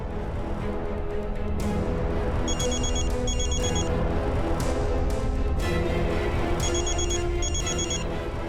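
A phone rings in repeated short electronic bursts, two pairs spaced apart, over a steady, busy background of music and noise.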